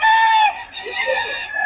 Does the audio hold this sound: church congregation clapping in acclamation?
no